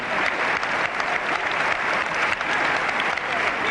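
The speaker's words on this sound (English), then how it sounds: "And just listen to that applause." Crowd at a wrestling match applauding: dense, sustained clapping from many hands fills the whole stretch, loud and continuous without breaks.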